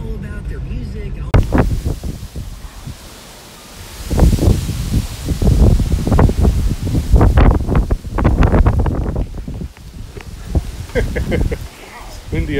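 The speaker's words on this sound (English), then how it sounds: "It's windy out here." Gusty wind buffets a microphone outdoors, a rumbling low roar that swells and fades under someone talking throughout.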